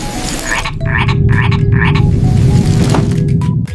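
A frog croaks in a run of short, repeated pulses, close and fairly loud. A steady low background hum sits under the croaking.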